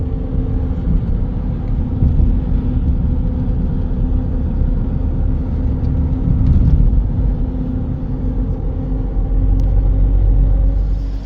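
Steady, loud low rumble of a car cruising on a road in Bulgaria heading toward Hungary, with constant engine and road noise and no talk.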